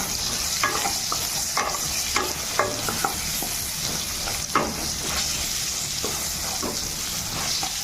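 Pointed gourd and potato with turmeric and salt stir-fry in a pan, a constant close sizzle broken by repeated scraping and stirring clicks from a spatula, with no talk.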